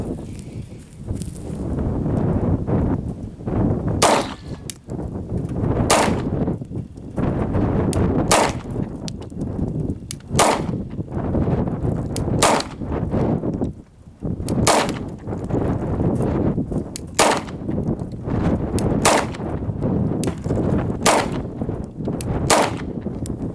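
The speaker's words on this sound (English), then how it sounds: "Gonna shoot some American Eagle out of it" A Sig SP2022 pistol firing American Eagle ammunition at a range, loud sharp gunshots spaced a second or two apart over a steady roar of outdoor wind and background noise.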